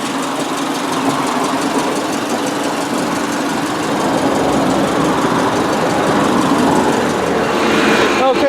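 A 2.5 liter Boxer engine in a silver 2003 Subaru Legacy Outback AWD wagon idles with a steady, close, even rumble that holds constant for the whole stretch, with no talking over it.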